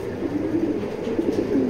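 Racing pigeons kept for sale coo softly and continuously, a low steady murmur from several birds close by with no talk over it.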